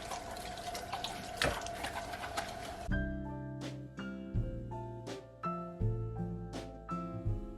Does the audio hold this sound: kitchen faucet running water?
yes